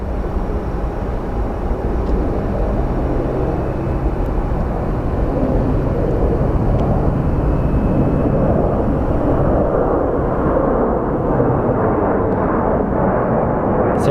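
An airliner roars steadily at Phoenix Sky Harbor International Airport, a broad, loud jet rumble that holds for the whole stretch, swelling slightly as it nears.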